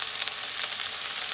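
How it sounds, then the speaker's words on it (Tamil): Onions fry in well-heated oil for a capsicum potato gravy, giving a steady, dense, close sizzle with no voices over it. "ஆயில் நல்லா ஹீட் ஆகிடுச்சு. இப்போ ஆனியன் ஆட் பண்ணிக்கலாம்."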